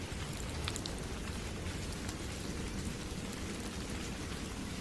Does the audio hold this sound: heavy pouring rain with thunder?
yes